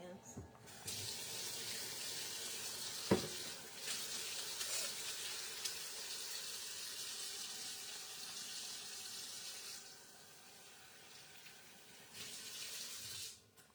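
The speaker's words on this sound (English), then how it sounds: "let me wash my hands" Running tap water pours into a kitchen sink as hands are washed, a loud steady hiss with splashing changes, then a clunk as the flow shifts briefly before continuing and tailing off.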